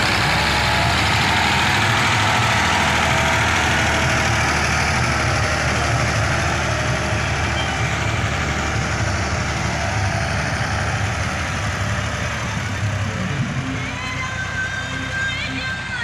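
Ford 4610 4x4 tractor engine running with a front blade, a steady low diesel rumble and idle vibration that continues close by throughout, with some background noise layered over it.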